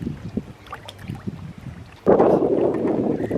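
Gusting wind buffets the microphone on open water during boat fishing, a low rumble that surges loud and steady halfway through over lighter wave and boat sounds.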